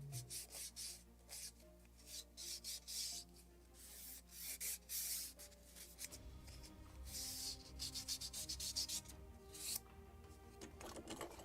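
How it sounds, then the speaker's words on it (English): Wooden plank for a model ship of the 1776 gunboat Philadelphia pressed against a power sander, producing bursts of close abrasive whirring and rasping that stop and start, with quiet gaps between passes and no talk. "Can make it on the sander. Just soft, slight"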